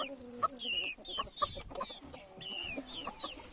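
An Indian hen gone broody gives short, repeated clucks close by, scattered in irregular bursts with other chicken calls and faint bird sounds around, and no talking.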